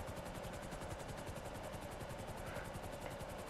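Helicopter in the video game Grand Theft Auto V, a steady rapid rotor chop with engine whine, loud and continuous, no talk.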